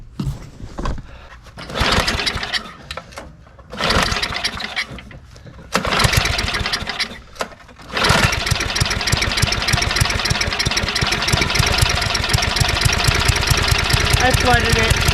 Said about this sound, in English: But now I got a running driving snowblower